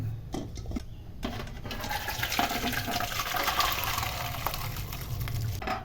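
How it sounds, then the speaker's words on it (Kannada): Boiled beans and carrots poured into a perforated colander. The hot water gushes and drains steadily for several seconds, close by, with a few clanks of the metal pot at the start. "ಇವಾಗ ಅದನ್ನ ಬಸ್ಕೋಬೇಕು ತೂತ್ ಪಾತ್ರೆಯಲ್ಲಿ"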